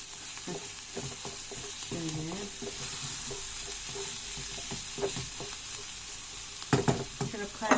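Minced meat sizzles steadily in a pot, with occasional scraping and stirring sounds from a utensil, close and fairly quiet.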